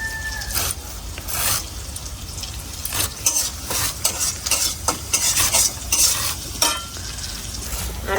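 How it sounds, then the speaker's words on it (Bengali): Chopped onions fry in oil in a wok, a steady close crackling sizzle with repeated scraping stirs, bursts of louder spatula strokes against the pan over about eight seconds. "আর আমার পেঁয়াজ তো ভাজা হইতেছে"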